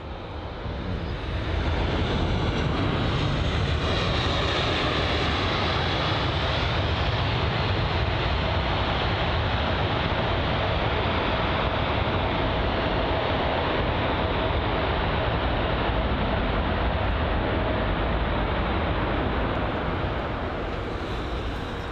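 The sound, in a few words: British Airways jet landing with reverse thrust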